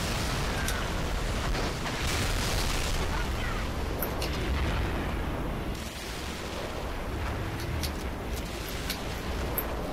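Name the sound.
Wraith tank fire and explosions in Halo 3 video game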